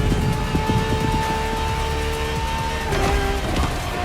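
Ferrari LaFerrari hybrid, petrol and electric with an F1 kinetic energy recovery system, in The Crew Motorfest, its engine droning steadily at close range with a sustained tonal whine that shifts pitch near the end.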